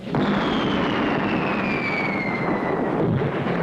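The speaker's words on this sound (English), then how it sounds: "Blast away, Ezra. Fire!" Cartoon cannon fire at sea, a single sustained booming blast with rumbling noise and a descending whistle, loud and steady for nearly four seconds without speech.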